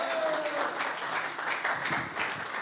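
A crowd at a Chicago house music event applauds in a full, sustained burst of clapping that swells and dips slightly but never stops.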